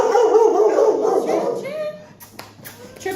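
Shelter dogs at the Florida Keys SPCA barking, howling and whimpering together, loud and close, with people talking over them.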